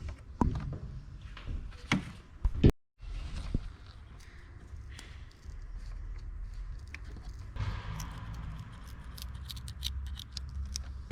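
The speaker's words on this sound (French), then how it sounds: "on va juste ouvrir le scotch" Scissors snip and crackle at tape on a Peugeot RCZ R wiring harness in a few sharp bursts, then steady rustling and handling noise continues close by.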